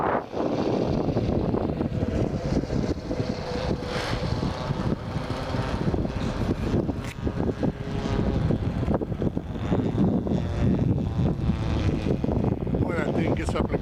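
A B-model radio-control airplane passes over a runway under heavy throttle, its engine or propeller drone a steady, broad roar mixed with gusty wind rumbling across the microphone for the whole stretch.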